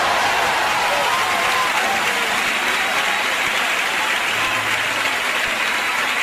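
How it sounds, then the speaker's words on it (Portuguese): A church congregation applauds in a continuous, dense roar of clapping that fills the hall, with faint crowd voices mixed in. "Dê um grito de glória a Deus, aplauda ao Rei Jesus."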